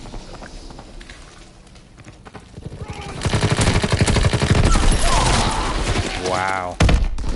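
Suppressed submachine gun in Call of Duty: WWII firing in fast, dense bursts amid game effects and background clatter, growing louder midway, with a person talking over the action.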